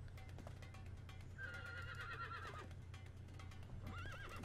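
A horse in the online game Aion whinnies twice, a wavering neigh in the middle and a shorter one near the end, over a steady low hum and faint clopping hooves, with no talk.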